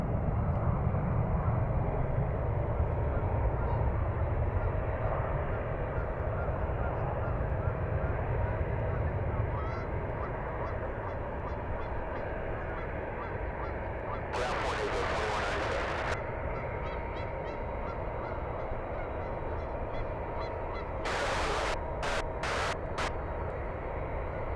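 An airliner taxiing at SFO airport, a continuous steady engine roar heard from a distance, with short bursts of sharp noise and people talking over it.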